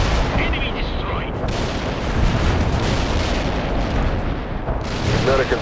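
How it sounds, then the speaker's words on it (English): Artillery fires repeatedly in the World in Conflict video game, with dense, booming blasts and rumbling explosions layered continuously at high volume while in-game voices speak over the barrage. "Fire explosion ready. Artillery lined up. Firing."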